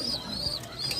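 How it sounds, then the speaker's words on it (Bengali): A pigeon coos softly at a pigeon farm in Bhagalpur, Savar, Dhaka, a short, low, rolling call amid faint chirps from other birds nearby. "অনেক সুন্দর সুন্দর কবুতর"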